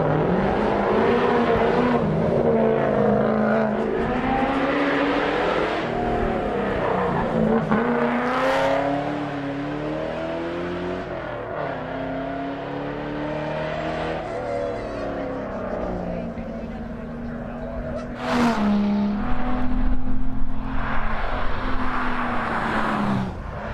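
Trevor Pyatt's Mazda race car climbs a lakeside hillclimb course, its engine loud and near, rising and falling through repeated gear changes and revs, with brief bursts of higher whine and a commentator talking over it.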